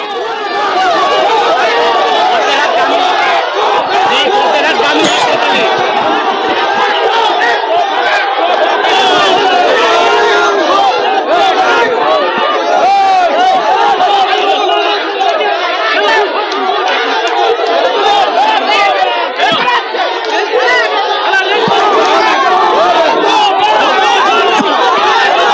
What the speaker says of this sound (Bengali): তৃণমূল সাংসদ প্রতিমা মণ্ডল, তাকে ঘিরে গো ব্যাক স্লোগান